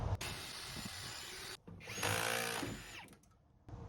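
A power drill bores out rivets while a school bus is being gutted, giving a loud, close, steady whine that breaks off briefly and then runs again, with no speech.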